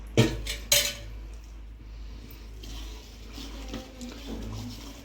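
Dhokla batter is mixed in a bowl with a spoon, two sharp clinks of metal against the bowl at the start followed by softer, quieter stirring and scraping.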